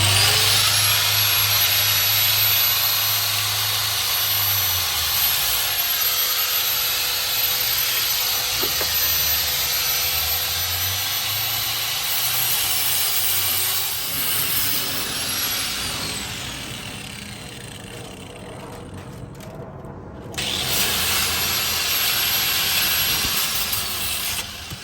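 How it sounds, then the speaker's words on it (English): A small cutoff wheel slices through a pipe, a loud steady abrasive whine with a brief drop near the end, then resuming. "So we got our little cutoff wheel, safety glasses."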